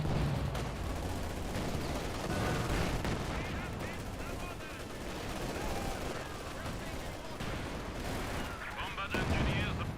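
Vickers machine gun fire in the World War II strategy game Company of Heroes 2, sustained bursts of rattling gunfire mixed with distant explosions under a steady battlefield din, with a commentator talking over it.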